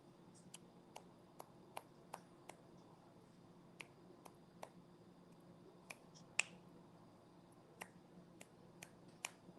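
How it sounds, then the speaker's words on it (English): Fingers snapping during a live football watchalong, a series of sharp, dry clicks at uneven intervals, close and fairly distinct over a quiet room tone, about fifteen snaps with one louder than the rest. "I'm snapping my fingers"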